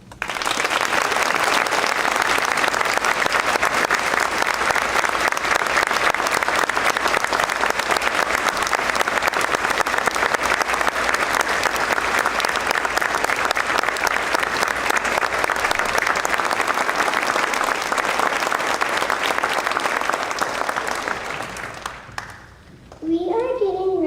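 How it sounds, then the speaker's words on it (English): A school audience at a Veterans Day celebration applauds veterans in a long, loud, sustained wave of clapping with children's voices mixed in, fading out abruptly near the end. "So everyone here could thank you with a round of applause."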